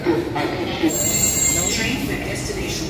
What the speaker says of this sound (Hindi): तर फ्रेंड्स मेट्रो आलेली आहे